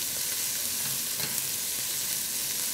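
Onion sizzles and fries in a pan for a cassava soup with bacon, a steady, dense crackling hiss at close range with faint stirring and no voices.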